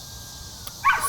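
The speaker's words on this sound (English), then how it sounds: "that is my dog" A dog gives a single short, sharp bark near the end of an otherwise quiet indoor stretch, fairly close and moderately loud.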